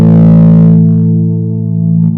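A sustained, distorted bass note shimmers with a chorus effect, thick and wavering, then thins out as it decays, with a brief sound near the end.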